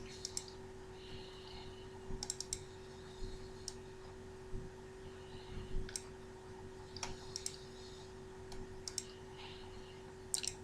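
Computer mouse clicks come close and fairly faint in small scattered bursts of one to three sharp clicks over a quiet, humming room background, with no talking.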